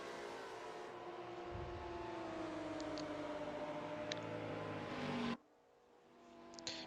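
Racing cars at Sandown in a sim racing game, engines droning loud and steady with shifting pitch as they run side by side, then cutting abruptly to a quieter engine hum.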